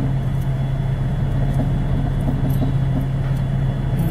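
A car engine with a loose muffler at a fast-food drive-thru, a steady low rumble idling close by, constant and unbroken with no voices.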